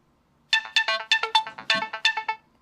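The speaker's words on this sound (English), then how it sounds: "you can see I got a text message" A text message notification tone on a Samsung Galaxy S3 running Jelly Bean 4.1 plays alone after a short silence. It is a bright, clear, melodic run of about a dozen quick chime notes lasting roughly two seconds.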